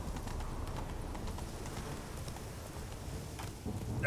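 Roach, Geralt's horse in The Witcher 3, gallops steadily with rapid rhythmic hoofbeats under a constant dull rumble of movement, close and moderately loud with no speech.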